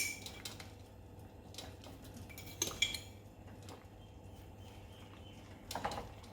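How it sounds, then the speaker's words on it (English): Coffee is added to a pot and stirred, giving a few soft metallic clinks and scrapes of a spoon against the pot at intervals, quiet and close over a low steady hum. "so now I'm just going to add my coffee"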